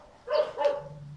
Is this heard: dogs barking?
yes